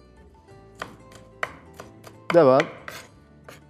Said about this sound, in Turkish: Bunları aynı şekilde öncelikle şöyle bir dilimle ufak ufak minik minik soğanımızı doğrayalım.